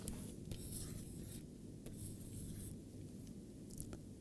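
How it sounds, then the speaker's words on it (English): Marker or pen drawing a picture on a board during a math lecture, with quick scratchy strokes and squeaks in irregular bursts, close and fairly faint, no talking. "let me draw the picture again."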